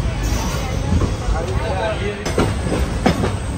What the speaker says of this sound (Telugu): అదిగోండి అది వచ్చేసి MGR చెన్నై సెంట్రల్ నుంచి KSR బెంగళూరు వెళ్ళే శతాబ్ది ఎక్స్ప్రెస్